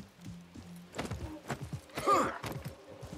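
Hooves of a horse clip-clop in a rhythmic galloping run in the video game Assassin's Creed Mirage, faint and close, with a brief breathy snort near the middle.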